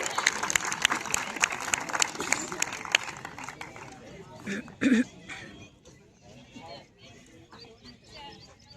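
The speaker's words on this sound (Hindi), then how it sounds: "जोरदार तालियां बेटी के लिए।" A crowd at a Delhi Police physical trial applauds a girl who won the race, loud, dense clapping for about four seconds that then thins out as someone talks over the scattered remaining claps.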